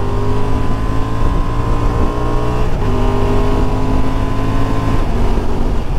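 A 2024 Honda XL750 Transalp motorcycle with a quickshifter accelerates hard, its loud engine climbing in pitch with quick dips at each upshift, heard continuously up close under wind rush.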